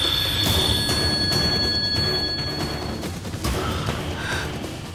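A phone rings in a quiet indoor scene, a short electronic ringtone burst sounding briefly over a steady low background hum, with no one talking.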